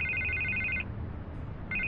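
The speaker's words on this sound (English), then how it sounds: "I can't get the phone to stop ringing." An electronic telephone trills in two loud bursts separated by a short gap over a low ambient hum, inside a scene from Batman: The Telltale Series.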